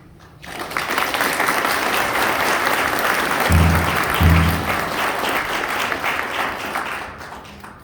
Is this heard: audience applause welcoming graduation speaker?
yes